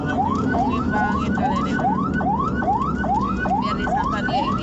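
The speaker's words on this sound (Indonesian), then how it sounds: "sopir ambulans Puskesmas Cisoka ini sudah membunyikan sirine dan klakson berkali-kali" Ambulance from the Cisoka community health centre on Jalan Raya Tiga Raksa, Tangerang, sounding a loud, close rising wail siren, about ten repeated upward sweeps in steady rhythm over road and traffic noise.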